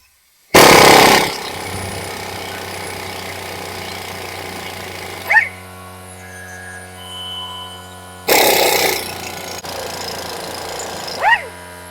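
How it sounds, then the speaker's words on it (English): Two loud, close bursts of a pneumatic impact tool rattling loose 15 mm sway bar bolts on a Jeep Wrangler TJ, each followed by a steady hum and a short squeal as it winds down. "we can go ahead and remove our two 15 millimeter bolts that are holding on the sway bar"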